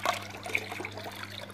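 Water trickling and draining out of a guppy aquarium as it is emptied, a soft continuous dribble and gurgle with a low steady hum underneath, heard up close and without talk.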